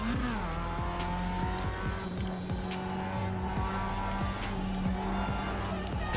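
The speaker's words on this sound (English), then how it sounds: "We can hear the car nicely." Race car engine in the iRacing video game, revving up and down through repeated gear changes, with cold tires squealing under the steady engine drone.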